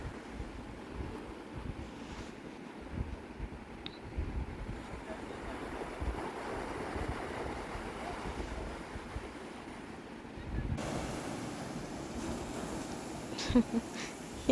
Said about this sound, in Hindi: एक एक लहर ना बहुत ऊपर आती है एकदम